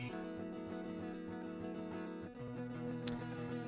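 Clean electric guitar chords strum quietly and steadily, with no effects, the dry tone ringing alone.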